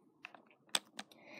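Computer keyboard being clicked and pressed, a handful of separate crisp key taps spaced irregularly, close and fairly quiet with no talk.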